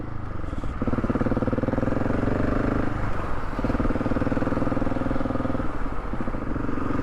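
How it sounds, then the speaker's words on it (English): A motorcycle engine idles loudly and close, its exhaust pulsing in a fast, even beat with slight blips in revs. "But the sound of that exhaust is lovely."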